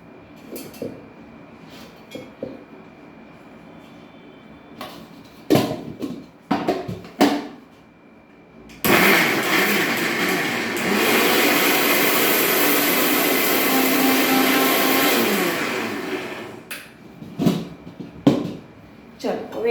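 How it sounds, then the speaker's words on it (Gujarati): A mixer grinder whirs loudly for several seconds as it crushes bread, preceded and followed by clattering bumps and handling noises. "મેં ત્રણ બ્રેડ લઈ લીધી છે અને આપણે મિક્સરમાં એનો ભૂકો કરી લઈશું"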